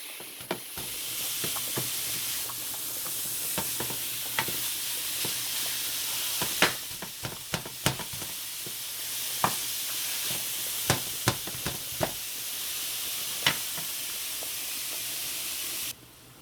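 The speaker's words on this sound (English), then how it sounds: "making sure we cook all the redness out of this meat, and we're gonna break it up as well" Ground beef, still partly frozen, sizzles steadily in a pan while a utensil breaks it up, giving sharp scraping clicks at irregular intervals over a constant frying hiss, close up with no talking.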